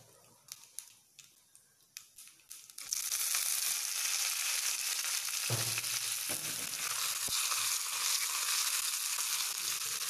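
Dried red chillies hit hot oil for tempering a pineapple gravy, bursting into a loud, steady sizzle that runs alone after a few soft clicks and handling sounds at the start.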